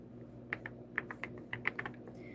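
Someone types on a computer keyboard, quiet and close, giving a loose run of separate clicking keystrokes with short irregular gaps and no talking.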